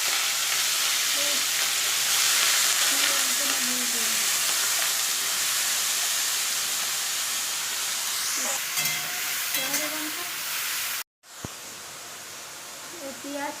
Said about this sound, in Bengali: সর্ষেটা ফুটছে আর এত সুন্দর গন্ধ লাগছে।